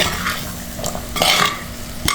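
Spices with coriander powder are stirred in a pan for a jackfruit core and seed dish, giving soft scraping and stirring scrapes with faint sizzling underneath and a few sharper utensil clinks.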